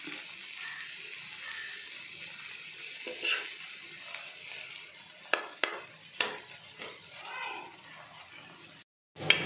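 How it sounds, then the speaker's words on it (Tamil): Masala-coated prawns fry in leftover fish oil on a dosa griddle, giving a steady soft sizzle with a few sharp clinks and scrapes of a utensil toward the end. "அந்த எண்ணெயிலேயே பொரிக்கிறேன்."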